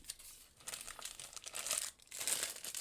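Plastic bag crinkling and tearing as a knife pouch is unwrapped, close and fairly quiet, with continuous rustling bursts and no talk.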